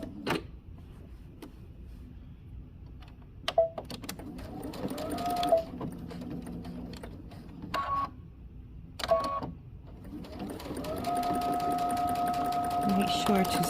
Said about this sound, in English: we're going to take it to the machine and stitch between the large dot and the notch